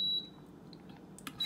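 A Power XL cooker set to roast at 375 gives short, high electronic beeps as its timer is set, one at the start and another near the end, with a quiet hum between.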